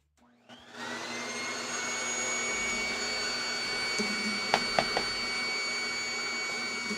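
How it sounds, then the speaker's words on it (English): A Dyson vacuum cleaner switches on and runs steadily in a repair shop, a constant whining motor hum with a few brief clicks and knocks partway through, close and loud, no talking. "Let me turn on the vacuum again."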